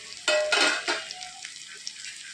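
Onion and tomato sautéing in a pan: a few brief scraping stirs with a spoon over a soft sizzle that fades, close and fairly quiet, without voices.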